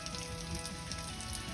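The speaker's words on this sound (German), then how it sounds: "das lassen wir jetzt vor sich hin brutzeln" Maultaschen fry in melted butter in a pan with a dense, steady sizzle and crackle, close and even, with no voices.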